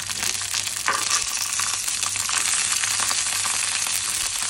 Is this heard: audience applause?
no